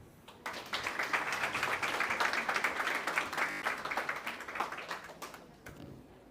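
A modest audience at a women-in-health workshop claps for several seconds, steady patter of hands that swells quickly and tapers off near the end.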